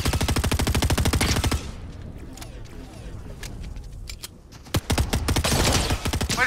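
Rapid automatic gunfire in Fortnite, a dense burst of shots at the start, then scattered single cracks and a second sustained burst near the end, loud and close over a busy game background.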